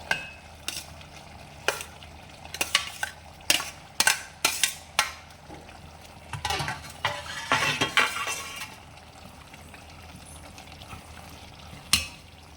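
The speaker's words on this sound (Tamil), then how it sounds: "நல்லா கொதிக்க ஆரம்பிச்சிருச்சு." Potato masala bubbles in a pan while a spoon stirs it, giving irregular scraping clinks and knocks over a low simmering sizzle, close and fairly loud.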